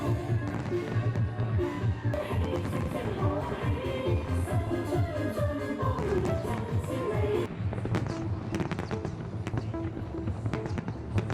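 A Lunar New Year fireworks display over Hong Kong crackles and booms continuously, dense overlapping bursts and sharp pops filling the air at a steady distance with no voices.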